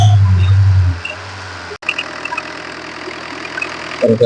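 The engine of a used 2013 car runs close and loud at first with a steady low idle, then drops away to a quieter rumble with small clicks and knocks, and a brief clunk near the end.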